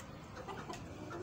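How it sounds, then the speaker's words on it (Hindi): A hen of the aseel breed clucking softly, a few short low clucks close by in a quiet outdoor setting. "ये मेरी मुर्गी है"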